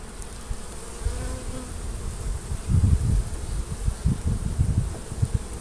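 Honey bees hum and buzz around an opened hive box during a spring hive split, a steady close drone with louder swells of buzzing near the end.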